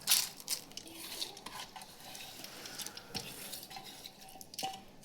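A spoon works through oil, bay leaves, lentils and other nihari ingredients in a pot, giving soft, wet scraping and clinking strokes at an irregular pace. The sound is close and fairly quiet, with no talking.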